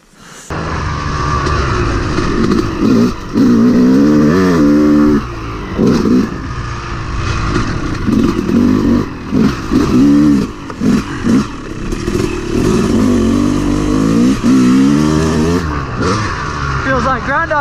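A motorcycle on a muddy trail in pouring rain revs hard and repeatedly, its engine rising and falling loudly and close, with brief drops between bursts and some talking in the background.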